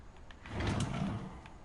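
A hidden door slides open in the video game What Remains of Edith Finch: a soft, brief scraping swell lasting about a second, fairly quiet and heard alone.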